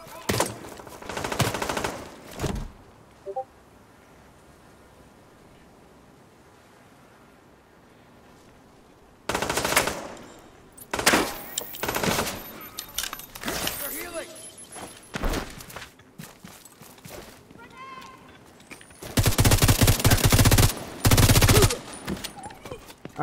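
Automatic gunfire in the shooter game The Division 2 erupts in several loud bursts separated by quieter stretches, with a player talking over the action between volleys.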